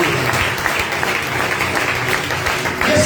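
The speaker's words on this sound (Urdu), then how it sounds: "آئے سب خدا کے یسوع کے لیے زوردار تالیاں" A church congregation claps loudly for Jesus during a sermon, a thick, sustained wash of applause from many hands that holds steady throughout.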